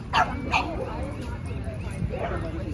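Dogs bark and yip at a public dog park in San Francisco, with two sharp barks near the start and another later, set against steady outdoor background noise.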